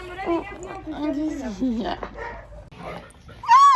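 Dogs at a shelter in Mauritius whine and yip close by, high wavering cries running under a person's speech, with a sharp bark or yelp at the very end.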